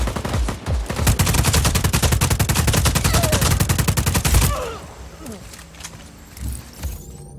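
Rapid automatic gunfire in the video game Just Cause 4, a loud dense burst of evenly spaced shots lasting several seconds, then cutting off into quieter ambient game sounds with a few scattered thuds.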